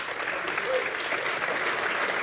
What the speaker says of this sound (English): You should be booing, not applauding.